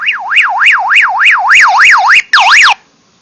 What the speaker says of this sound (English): it'll disperse an emergency tone.